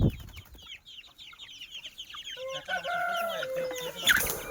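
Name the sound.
chicken chicks clucking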